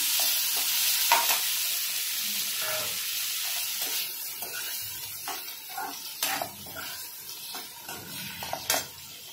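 Paneer pieces are tipped into a hot pan for restaurant-style paneer butter masala, setting off a loud sizzle with repeated scraping stirs and clinks of a spoon against the pan.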